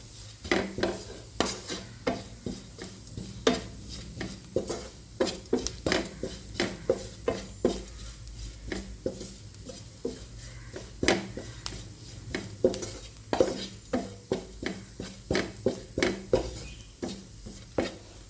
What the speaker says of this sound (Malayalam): മുളക് പൊടി ഇട്ട് നന്നായി വഴറ്റി കൊടുക്കുക